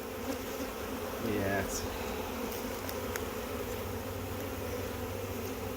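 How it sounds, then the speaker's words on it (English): A honeybee swarm clustered on a fence buzzes as a dense, steady hum, with bees flying around close by; a voice briefly answers over the drone. "They're directing the other bees around. They're flying around."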